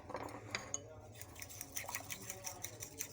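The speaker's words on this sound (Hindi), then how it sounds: "ये 2 अंडे फेंट लेने हैं, इनमें आधा कप दूध डालेंगे और ये 8 चम्मच जो मैंने चीनी ली थी वो डाल के इसको मिक्स कर लेंगे" Eggs beaten with milk and sugar in a bowl, quick rhythmic clinking of a spoon or whisk against the sides, faint and close, with a voice speaking softly over it.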